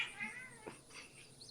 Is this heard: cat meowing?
yes